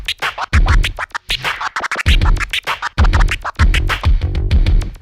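Turntable scratching with scribble variations and fast back-and-forth record strokes, played loud in a dense run of rapid choppy bursts with brief gaps.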